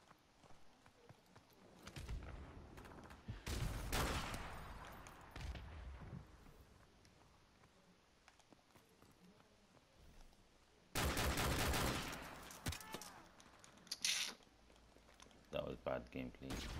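Bursts of Dragunov rifle fire in Modern Warfare Remastered, several separate volleys of sharp, loud shots with quieter gaps and faint game noise between them.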